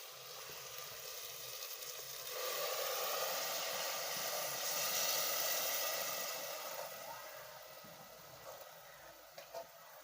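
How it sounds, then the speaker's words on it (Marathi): Water is poured into pav bhaji masala frying in a pressure cooker at home, giving a loud, rising sizzling hiss that swells mid-pour and then fades. "आता ह्याच्यामध्ये मी असं पाणी वतणार आहे"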